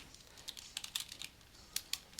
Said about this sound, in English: let me type it out and then maybe I'll explain it